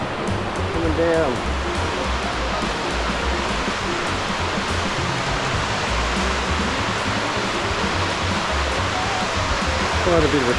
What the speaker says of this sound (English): I can hear some noise and some water, running water coming up.